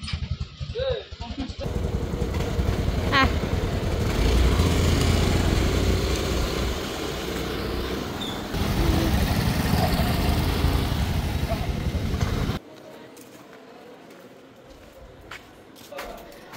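A motorbike engine runs steadily close by, loud and continuous for several seconds, then cuts off, leaving quieter background.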